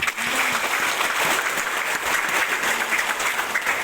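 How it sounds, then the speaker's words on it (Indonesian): A Christmas church congregation in Wamena claps together loudly and continuously, a thick, even roar of hands filling the room throughout. "Mari kita tepuk tangan."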